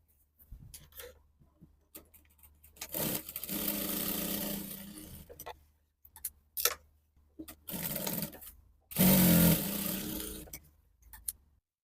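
Sewing machine stitches a bust dart into blouse lining fabric in three close, loud bursts of steady whirring, separated by short pauses with light handling clicks.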